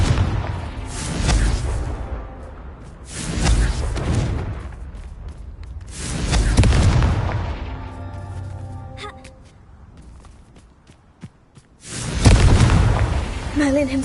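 Confringo spell blasts in a Harry Potter video game: several deep, rumbling explosions burst out one after another, each swelling and fading, with a quieter stretch and faint clicks before a final heavy boom.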